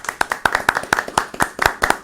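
A small group claps in a rhythmic, sharply separated volley of about twenty close, crisp hand claps during a live municipal briefing on coronavirus measures in Canoas.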